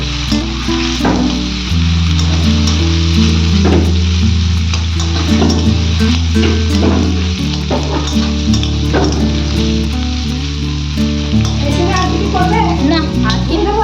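Small mola carplet fish frying in hot oil, a loud continuous sizzle with stirring clatter throughout, while voices speak over it.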